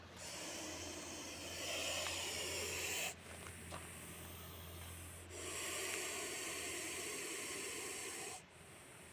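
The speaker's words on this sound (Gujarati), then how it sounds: "તમે એનો અવાજ સાંભળી શકો છો. એનો અવાજ કુકરની સીટીની જેમ સીટી મારે છે." A snake hisses in two long, loud bursts with a short pause between them, a harsh airy rush close by that resembles a pressure cooker whistle.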